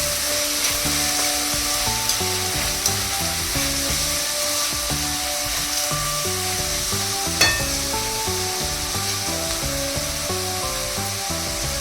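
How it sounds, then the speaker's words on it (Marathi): Tomatoes frying and being stirred in a pan for pav bhaji give off a continuous, close, even sizzle with occasional scraping stirs, over soft steady background music. "टॅमॅटो टाकूया टॅमॅटो पण चांगले परतून घेऊया"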